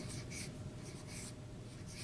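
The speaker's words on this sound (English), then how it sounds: "So first thing we need is a marker to write our name" A marker squeaks and scratches in short rhythmic strokes while writing a name on paper, close and quiet over a steady low room hum.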